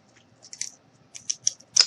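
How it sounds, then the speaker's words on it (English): A few sharp crunching snips of scissors cutting through a jumbo wooden craft stick, one cluster and then three quicker cuts, close and alone in a quiet room. "I take a jumbo craft stick, set this out of the way for a minute, and what I do is I go ahead and just cut it"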